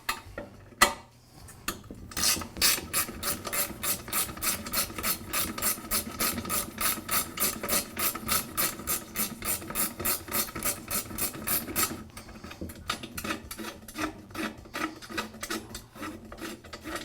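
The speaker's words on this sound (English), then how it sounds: "Now remove the guide wheel bracket from the old table and transfer it to the new." Ratcheting wrench clicking rapidly and steadily while loosening the guide wheel bracket bolt on an MK Diamond tile saw table, a close continuous metallic rasp of fast clicks that stops, then gives way to a few slower turns.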